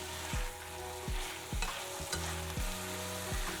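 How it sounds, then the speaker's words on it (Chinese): A pan of sauce with sugar, cinnamon and rice wine sizzles as it is stir-fried, a spatula scraping the pan in regular strokes about every half second over the steady frying hiss, close by and without voices. "拌炒均匀"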